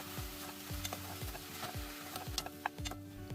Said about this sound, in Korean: 팬에 기름을 두른 후 먼저 버섯을 넣어주고 양념으로 간장 1스푼, 굴소스 1스푼 넣어 볶아줍니다